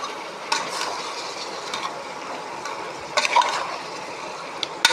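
Chicken sautéing in oil in a pan gives a steady, moderate sizzle with occasional stirring clinks and scrapes, close and without talk.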